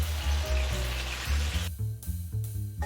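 A splash of water hits spice paste frying in a pan for a yogurt-based katla fish curry, giving a loud steady sizzle that abruptly quietens partway through while low bubbling continues.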